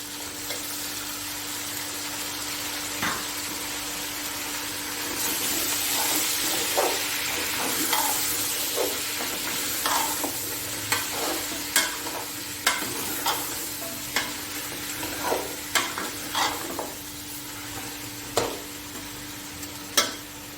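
Tomatoes for chicken matar pulao sizzle steadily in a pan, with a soft frying hiss and repeated clicks and scrapes of a spoon stirring at a regular pace, with no talk.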